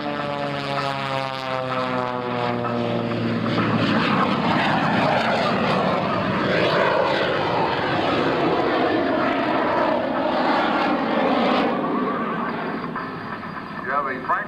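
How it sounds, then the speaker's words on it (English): A jet-powered aerobatic airplane roars past at an air show, a loud sustained engine rush with a falling pitched whine as it passes, while voices and crowd noise carry on underneath. "Okay, jet time, Jimmy, jet time"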